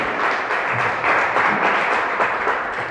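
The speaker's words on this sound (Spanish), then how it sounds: "Denle un fuerte aplauso al Señor" Congregation applauding during a church worship service, dense continuous clapping filling the room, loud and even with slight swells.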